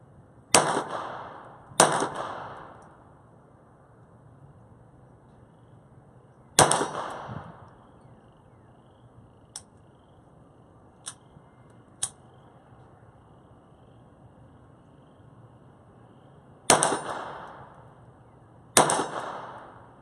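Winchester Super-X rounds fire at a CTS steel target in sharp, loud gunshots, each with a ringing decay. There are two quick pairs and a single shot, with faint metallic pings from steel hits in the quiet gaps between them.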